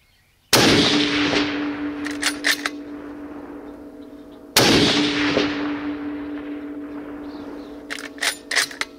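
A 300 Win Mag rifle fires twice at a woodchuck on an open hillside about 225 yards away, each sharp, loud crack followed by a long rolling echo that fades over several seconds, with faint clicks and rustling trailing after.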